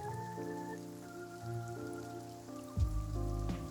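Steady ambient rain from a video game, a soft wash of patter running continuously beneath sustained tonal music throughout the short stretch.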